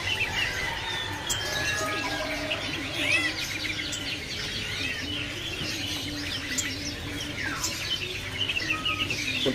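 Spotted doves (burung puter) in a bird market kiosk, with chirps and calls from many caged birds layered over a steady, busy market background.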